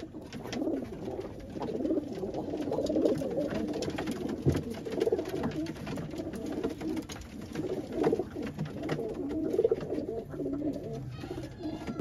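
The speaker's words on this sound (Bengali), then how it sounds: "এই যেমন এক জোড়া মাস্টার পেয়ার কালদম কবুতর, 14 নেজের বেস্ট কবুতর" A pair of Kaldom pigeons coo steadily, their low rolling calls repeating one over another at close range with no break.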